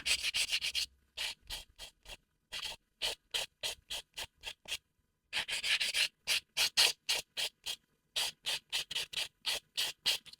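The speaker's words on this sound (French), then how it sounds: "vous passez un petit coup de bloc pour bien égaliser la surface" Short, rhythmic rasping strokes of a buffer block smoothing an acrygel nail overlay, about two dozen quick back-and-forth passes in bursts with brief pauses, close and fairly quiet, no talking.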